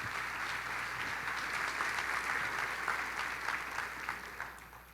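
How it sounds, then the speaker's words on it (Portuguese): A church congregation applauds steadily for several seconds in a large room, a dense wash of clapping that stays even and then tapers slightly at the end. "Você pode dar um aplauso ao Senhor por isso?"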